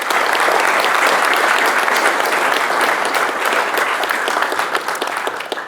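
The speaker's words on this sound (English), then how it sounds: "So how about a round of applause for all of those folks?" An audience at a Gettysburg battlefield program marking July 1, 1863 claps loudly and steadily for the full stretch, a dense sustained ovation that tapers slightly at the end with no voices over it.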